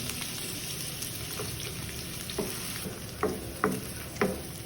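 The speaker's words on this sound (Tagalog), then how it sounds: "Kapag nakikita niyo nang umuusok yung lutuan, yung paglagya, pag nakita niyo nang umuusok, lagyan na natin ng mantika. Tilagay na rin natin yung sibuyas." Onion sizzling in smoking-hot oil in a pan, a steady soft hiss with a few light pops and crackles toward the end, fairly quiet and with no voices.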